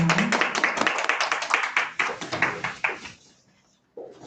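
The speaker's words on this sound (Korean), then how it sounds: "우리 함께 박수 치겠습니다." A church congregation claps together at an Easter service, a brisk run of distinct hand claps close by that thins out and stops, followed by a brief silence before a new sound begins.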